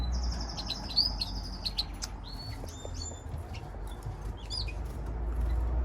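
Canary and British finch chicks chirp in a breeding shed, with high thin tweets in short bursts and pauses over a low steady hum.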